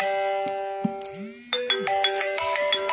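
A phone ringtone plays loud and close, a steady electronic melody of repeated tones that shifts into a brighter, busier pattern partway through, with no voices over it.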